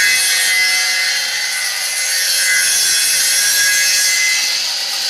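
A saw on a wood copying lathe, driven by a 380 V, 1.1 kW electric motor, cuts wood in a steady, loud, unbroken high-pitched whine with a rasping edge, and no voices.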